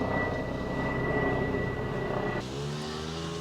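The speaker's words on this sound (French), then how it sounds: "Putain, un hélico maintenant." A helicopter passes overhead near a parked camper van, its steady loud engine and rotor drone filling the whole clip and shifting in tone partway through as it moves away.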